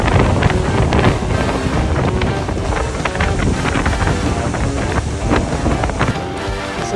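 Wind gusts roar continuously through tall trees around an RV campsite during a windstorm, loud and buffeting the microphone with no letup.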